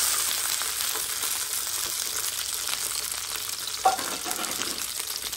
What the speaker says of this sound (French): Mettre le petit peu de l'huile là, hein? Mettre les oignons.